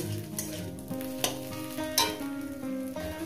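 Fenugreek greens frying in a pan at medium heat, a close steady sizzle with occasional stirring clinks and scrapes.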